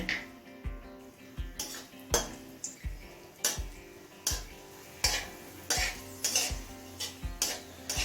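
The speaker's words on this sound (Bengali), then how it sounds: "তেলটা হাই ফ্লেমে গরম করে নিয়েছি এবার কিছুটা কাজু কিশমিশ ভেজে নেব" Cashews and raisins being fried in hot white oil in a pan for peas pulao, heard as a steady run of about fifteen spoon or spatula scrapes and clinks against the pan, recurring every half second or so, with a light sizzle underneath.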